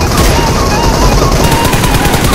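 Rapid automatic gunfire in the mobile shooter PUBG Mobile, a dense continuous burst of loud cracking shots throughout, close and sustained with no talk.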